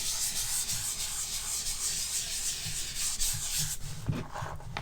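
Fingers rubbing and smoothing chalk pastel across paper in a steady, close, scratchy swishing that continues throughout, with no voices.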